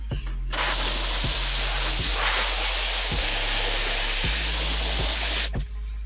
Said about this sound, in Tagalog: Pagkatapos ng 1 minute, pwede na po tayong mag-wash. Dito tayo sa shirt side mag-spray una.